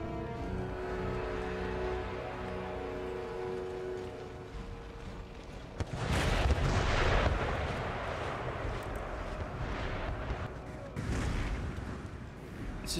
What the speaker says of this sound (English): my howitzer is to engage the armed populace on the flank